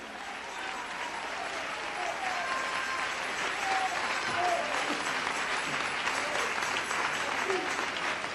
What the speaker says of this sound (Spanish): Dele ese aplauso al Cristo de la gloria.